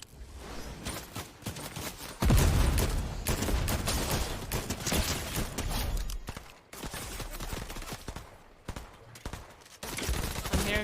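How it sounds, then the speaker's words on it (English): Grenades explode in a video game firefight as dense, loud bursts of explosions and gunfire run almost continuously, dipping briefly before rising again. "I'm hearing grenades."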